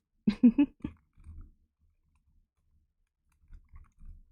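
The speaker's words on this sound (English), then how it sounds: "I got a much quieter keyboard, by the way." A quieter computer keyboard gives a quick burst of soft typing clicks, then a long pause, then a few fainter muted taps close by.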